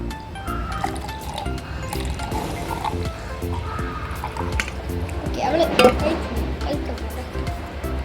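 Plain water poured into a bottle during a home challenge game, a steady trickle with glassy clinks, heard under background music and people talking.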